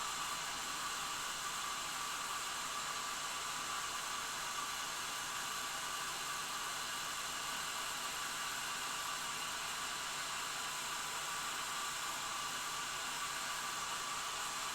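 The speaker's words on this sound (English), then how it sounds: "I'm gonna hit it with a hairdryer for a little bit." A hair dryer blows steadily for the whole stretch, a constant airy whir at even volume with no voices.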